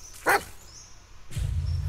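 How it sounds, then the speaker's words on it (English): A single short bark from a dog in the video game Blair Witch rings out, followed by a low rumbling hum of background sound. "Listen to his barking"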